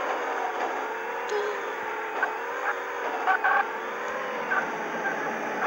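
Simulated car engine from the Extreme Car Driving mobile game, a steady droning hum with shifting pitch that runs continuously throughout, with a few brief bumps and clatters.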